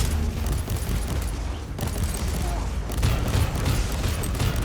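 Rapid frag burst explosions from a ranged weapon in the action RPG Warhammer 40,000: Inquisitor – Martyr, a dense, continuous barrage of booming blasts with mechanical clatter, loud and close, running for several seconds without talk.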